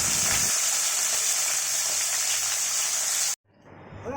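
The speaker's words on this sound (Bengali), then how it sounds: "আর এই যে পমফ্রেট মাছ ভেজে দিচ্ছি" Pomfret fish frying in a pan, a steady loud hiss and crackle of hot oil that continues for several seconds, then cuts off abruptly.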